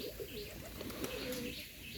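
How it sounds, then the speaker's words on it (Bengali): A pigeon coos softly and repeatedly, a low murmuring call with faint chirps and some rustling around it, close by and steady over the short stretch. "আর এটা দেখুন সুন্দরভাবে ডাকতেছে কবুতরটা"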